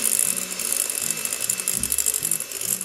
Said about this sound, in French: Donc on monte les œufs en neige